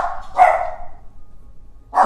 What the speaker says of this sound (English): the doorbell rang, so of course they have to tell the whole neighborhood